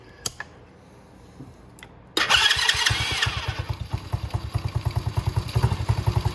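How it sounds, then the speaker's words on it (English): A Venom Racing Madix 125cc ATV engine cranks and catches after a quiet pause, then settles into a loud, close, steady low-rpm idle with an even pulsing chug. "we're just going to start the ATV."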